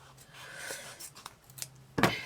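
Quiet snipping and rustling of scissors close by, ending with a sharper, louder cut near the end.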